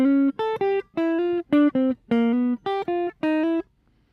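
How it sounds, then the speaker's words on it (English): A quick, fluid jazz run over the chords of a jazz standard, enclosing the third of each chord, played as about a dozen short, bright, detached notes in uneven groupings, close and clear, ending in brief silence. "we get this really fluid run where we're enclosing the third the whole way through"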